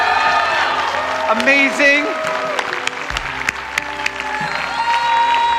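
A crowd at a church service claps and cheers steadily for a group of children, with whoops, a sung or called-out voice rising over the noise and a loud thump partway through.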